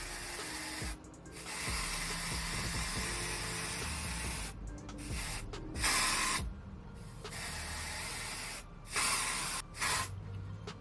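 An aerosol can of lace tinting spray sprays in several long hissing bursts, close up, with short pauses between them.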